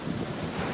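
Pacific Ocean surf at Manhattan Beach washes steadily in a broad, even roar, with wind buffeting the microphone and no voices over it.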